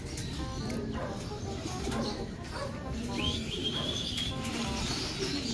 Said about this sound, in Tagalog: papakainin na po ni Superbook yung mga ibon natin.